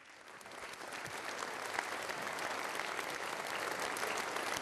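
A concert audience at a song presentation in Lviv claps steadily, a dense, even wash of applause that stays full and close for several seconds with no voices on top.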